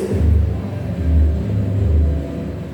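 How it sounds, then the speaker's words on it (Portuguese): Low rumbling engine of a loudspeaker car passing outside a church assembly, swelling and fading in repeated low waves, fairly loud and steady with no talk over it. "Deixa eu passar o carro do som"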